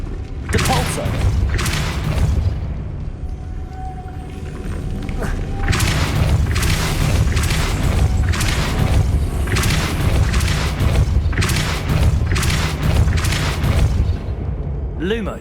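Depulso force spell cast repeatedly in Hogwarts Legacy on PS5, heard as a series of loud booming blasts and thuds arriving in clusters, with a brief faint tone between them and no talk over it.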